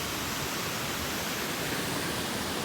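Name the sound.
waterfall on the Ellis River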